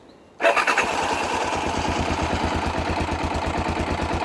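An MT350 motorcycle engine fires up abruptly after a quiet moment and settles into a steady, loud, close-up idle with a fast, even pulsing beat.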